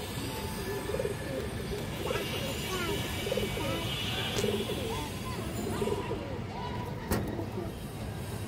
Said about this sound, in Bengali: বড় সাইজের একটা মুসলদম নর কবুতর, একদম পুরান লড়াই কবুতর